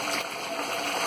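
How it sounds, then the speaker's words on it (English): A second bath bomb fizzes and bubbles in bathwater, giving a dense, steady hiss of tiny bursting bubbles up close. "You're getting more bubbles."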